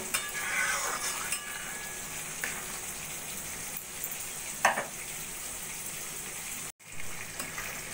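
Pre-fried pakoras simmer in Punjabi kadhi curry in a pot. A soft, low sizzle and bubbling run throughout, with an occasional stir or clink of a spoon and a brief cut near the end.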